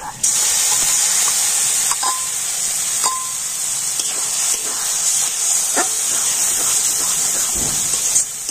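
Boiled masoor lentils hit hot oil with onion and garlic fried until reddish, raising a loud, steady, close sizzling hiss with a few faint clicks from the pan.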